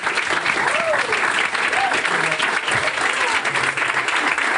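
Applause from the audience at an EdTech meetup, continuous even clapping from a room full of people, with faint voices mixed in.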